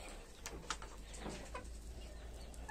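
Chickens cluck softly in short, scattered bursts, a close barnyard murmur with no talking.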